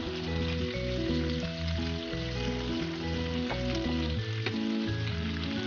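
Marinated meat grilling on a home barbecue while leftover marinade is brushed on, producing a dense, steady sizzle and crackle close by with faint stirring-like scrapes; no voices.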